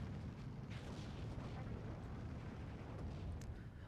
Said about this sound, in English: Mortar trying to save the day here.